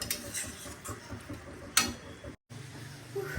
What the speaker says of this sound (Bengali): এবার এটাকে ভালো করে কষবো, তারপরে দেবো মশলাগুলো। টমেটোটা ভাজা ভাজা হোক।